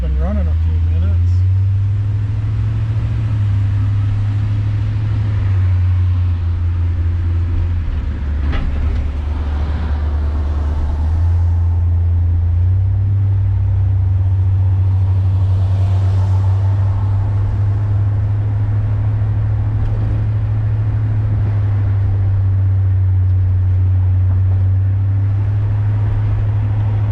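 A 1966 Ford Galaxie 500 convertible's engine idles close by, a loud, steady low rumble with a slight shift in pitch partway through, and a voice talks over it.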